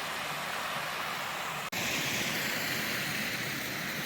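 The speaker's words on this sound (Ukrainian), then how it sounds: "кілька водоспадів маленьких" Several small waterfalls in a mountain stream, a loud continuous rushing hiss of falling water, close and unbroken except for a momentary dropout partway through.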